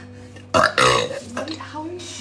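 A woman lets out a loud, close burp, a sharp burst followed by a longer rumbling belch, with a voice heard briefly around it.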